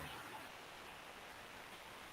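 Heavy rain falls in a steady, even hiss, quiet and continuous throughout with no distinct drops or other sounds standing out.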